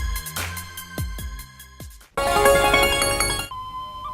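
A mobile phone ringtone plays loud and clear, a short run of bright repeating tones that gives way to a dense, full musical burst, then fades to a softer tone at the end.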